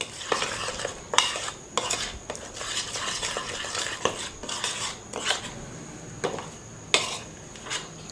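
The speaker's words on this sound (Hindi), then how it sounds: "अब इसको अच्छे से मिक्स कर लेंगे।" A spoon scrapes and clinks against a bowl while mixing a chicken marinade of yogurt, chaat masala and spices, with irregular close metallic taps and wet stirring over several seconds.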